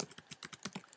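Fingers type on a computer keyboard in a quick, close burst of about a dozen crisp key clicks, ending with a sharper tap like the enter key.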